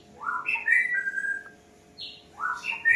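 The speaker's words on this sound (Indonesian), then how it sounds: "Tuh murai batu sebelah," An oriental magpie-robin sings clear, bright whistled phrases with short pauses between them, fairly close, over a faint steady hum.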